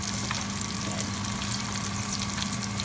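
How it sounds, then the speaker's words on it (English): A steady, dense sizzle of hamburger meat frying in a pan, continuous and fairly close, with no voices. "the hamburger was just frying in there"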